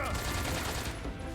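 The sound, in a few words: gunshots in video game Metal Gear Solid 3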